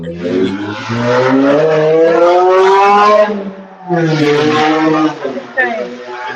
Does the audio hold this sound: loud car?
yes